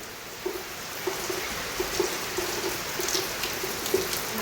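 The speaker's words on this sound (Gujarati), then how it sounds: "થોડો વરસાદ આવે અને આ નેવા ચાલુ થઈ ગયા" Light rain falls and water drips off the eaves of a house in Gujarat, with steady soft patter and scattered small drips, no voices.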